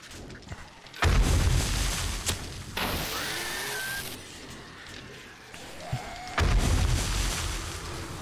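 Heavy explosions in 7 Days to Die blowing up a zombie horde, two or three deep booming blasts with rumbling aftermath amid ambient game noise.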